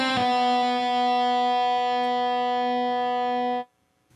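An electric guitar through a BluGuitar amp on its metal setting holds one loud, distorted chord that rings steadily for about three and a half seconds before the noise gate cuts it off sharply.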